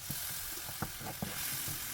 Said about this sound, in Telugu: తర్వాత ఒక మీడియం సైజ్ టొమాటో ప్యూరీ వేసుకుంటున్నాను